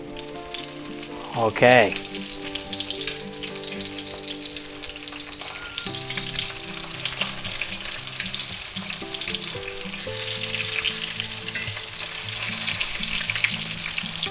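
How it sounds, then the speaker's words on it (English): Thin chicken fried steaks sizzle steadily in a frying pan, a constant close crackle that runs throughout, with a brief louder burst near the start and a short spoken word over it. "let that cook maybe 1 to 2 minutes on each side because those steaks are thin"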